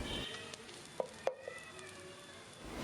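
Finely chopped garlic and julienned ginger sauté in hot oil, giving a soft steady sizzle with a few sharp clinks of a utensil against the pan, and no one speaks.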